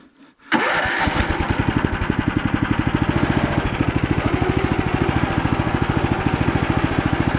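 A walk-behind two-wheel tractor (Motor Sich) fitted with a grass mower starts after a short quiet moment, then runs with a loud rapid pulsing engine chug, close and steady.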